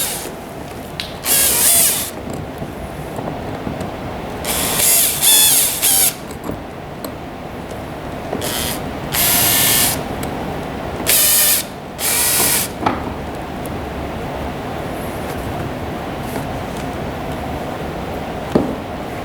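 Phillips head screws with washers are driven into an upper backrest side panel, giving several short, loud ratcheting bursts of a hand screwdriver separated by quieter pauses, with no talking.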